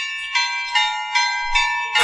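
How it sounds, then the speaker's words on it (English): A doorbell chimes several times in a steady repeating pattern, bright ringing tones sustained throughout, fairly close and clear with no talking. "Oh, it's my doorbell."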